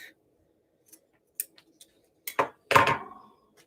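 Scissors cut the stop off a zipper, with a few light clicks followed by two close, crisp snips, the last one louder and longer, in a quiet room.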